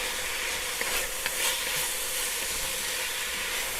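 Cumin, chili powder and salt being stirred into a pot of beef steak soup, giving a steady close sizzling hiss with a few soft scraping knocks from the spoon.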